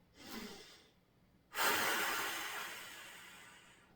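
Deep breathing during a yoga stretch for golf: a soft inhale, a pause, then a long, louder exhale lasting a few seconds, close and alone with no talk.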